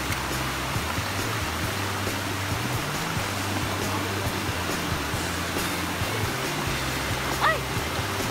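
A waterfall at a dam in Patag sends up a continuous broadband rush of falling water, steady and loud throughout with no breaks, while a low droning hum runs underneath.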